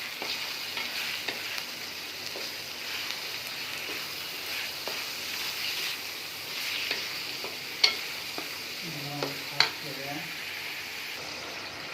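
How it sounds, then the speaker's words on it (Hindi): Chicken qeema frying in a pan with ginger and garlic, a steady close sizzle with occasional scraping stirs and clinks of a utensil, and a voice briefly audible near the end. "कीमे को हमने अच्छे से भूनना है अदरक लहसुन में।"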